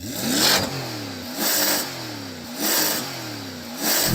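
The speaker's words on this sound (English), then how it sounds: "So I'm going to rev up this American V8." A C8 Corvette's V8 engine revs hard four times in a steady rhythm, each throttle blip roaring up then dropping back to a rumbling idle.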